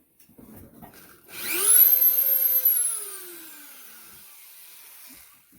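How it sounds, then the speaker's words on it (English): A Dremel rotary tool fitted with a small diamond burr for wood carving spins up, its whine rising in pitch and then holding steady before slowly fading as it winds down. "We're going to turn our Dremel way down."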